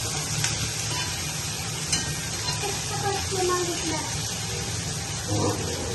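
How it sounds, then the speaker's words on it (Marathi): Ground chili and garlic fry in a pan, giving a steady sizzle with occasional stirring scrapes and faint clinks. Children's voices chatter faintly in the background. "थोडं स्पायसी पाहिजे म्हणून मिरची आणि लसूण वाटून घेतलाय, तो पण टाकायचं. चांगलं फ्राय होऊन द्यायचं."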